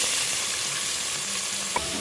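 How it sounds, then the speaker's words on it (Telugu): Chopped onion fries in oil with mustard seeds, cumin and garlic, a steady close hiss of sizzling with one brief clink of a utensil near the end. "ఉల్లిగడ్డ బాగా ఫ్రై చేసుకుందాం"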